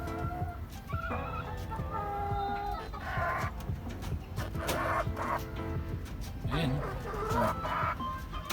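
Chickens cluck and a rooster calls in a backyard poultry pen, a busy layered chorus of fowl close by with someone talking over it.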